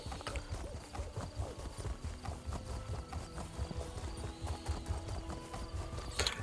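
Horse hooves gallop in The Elder Scrolls Online, a quick, steady clip-clop rhythm running throughout at moderate volume, with faint game ambience underneath.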